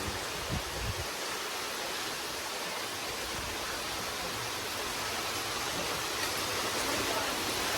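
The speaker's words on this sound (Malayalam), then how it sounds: "നല്ല കാറ്റ് എന്ന് വെച്ചാൽ ഭയങ്കരമായ കാറ്റാ ഭയങ്കരമായ കാറ്റ്" A steady, loud roar of wind and heavy rain, continuous and unbroken for the whole stretch, with no voices.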